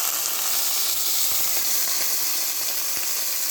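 Fish and celery stir-fry in a wok over medium heat with a little stock added. A steady, close hiss and sizzle runs throughout, with faint stirring taps and no speech.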